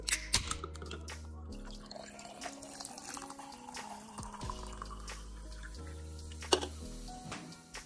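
Sparkling water poured into a glass, a close trickle and fizzing drips running steadily with a few brief clinks, no talking.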